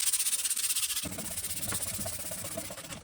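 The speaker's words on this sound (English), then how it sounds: "We have a series of sandpapers. We're gonna start with the 120." Coarse 120-grit sandpaper rubs rhythmically over a carbon fibre part, roughing the surface with quick back-and-forth strokes in a steady, close, fairly soft rasping hiss.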